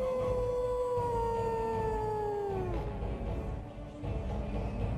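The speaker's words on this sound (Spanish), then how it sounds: "El hombre lobo se sube a las cuerdas y deja que el animal que lleva dentro se apodere de él mientras aúlla en la noche." A werewolf in the Monster Brawl fighting video game, climbing the ring ropes, lets out a long sustained howl that slowly slides downward in pitch before fading, loud and close over low background game noise.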